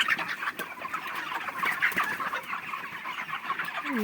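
Crowded broiler chickens, 36 days old, fill a poultry farm house with continuous clucking and overlapping chirps, close and busy, with no voices.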